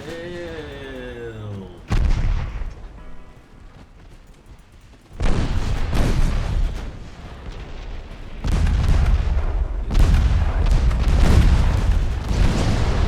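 Heavy warship guns boom in a naval battle in the game Ultimate Admiral Dreadnoughts, with repeated loud, deep salvos and rumbling blasts in clustered bursts after a brief tonal sound at the start.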